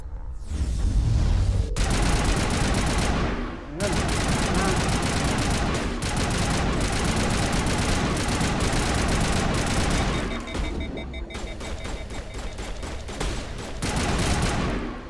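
Gunfire in a Mass Effect firefight, a dense and loud stream of rapid shots and impacts that runs almost without pause, broken by a couple of brief lulls, with a voice talking over parts of it.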